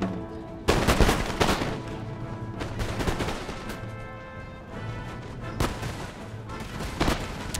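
Battlefield gunfire in the strategy game Empire: Total War, with loud volleys and crashing shots in scattered bursts among rolling distant firing, some near and sharp, others fainter, without talk.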